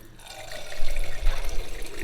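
Water running from a tap on a boat's newly pumped water system, a continuous splashing gush with gurgling and spattering, fairly close and steady.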